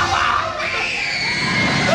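A little girl on a TV show screams in a high, continuous shriek over a noisy crowd backdrop, loud and sustained throughout.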